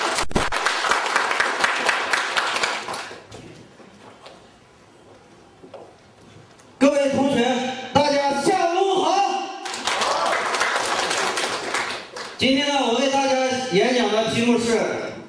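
Audience applause at a speech contest, dense clapping bursting loudly in several waves, with quieter stretches of murmur and an amplified voice between the bursts.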